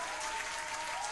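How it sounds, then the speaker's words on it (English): Applause on a radio show, a brief dense burst of many hands clapping together at an even level with a faint crowd murmur. "Can I have some hand claps for that, please?"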